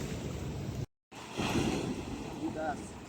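Ocean waves wash onto a beach in Subic, a steady broadband surf roar with wind buffeting the microphone, briefly cut out near the start, while people chat nearby.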